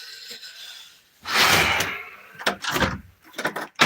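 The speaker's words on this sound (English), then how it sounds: "I open the door." A door is opened indoors, a soft rattle followed by a louder sliding, scraping rush and a few sharper knocks and thuds close by.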